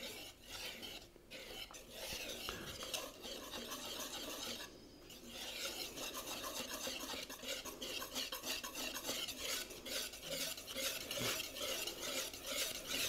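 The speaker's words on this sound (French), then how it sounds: "Le beurre est fondu. On va pouvoir l'incorporer dans la pâte." Melted unsalted butter being stirred into madeleine batter in a dish, a steady close scraping and swishing of a utensil against the bowl that continues throughout with no talk.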